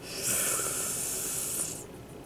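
Chalk or marker strokes scratching across a board in a precalculus lesson, one sustained hissing rub of about a second and a half, close and moderately loud, with no talk over it.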